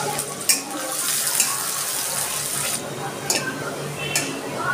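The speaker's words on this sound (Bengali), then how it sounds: "তেল গরম হয়ে গেছে, আমি পেঁয়াজ অল্প করে কিছু পেঁয়াজ দিয়ে দিচ্ছি।" Chopped onions sizzle steadily in hot oil in a pan while a lentil dal with egg is being cooked, with occasional stirring clinks and a few sharper crackles over the continuous frying hiss.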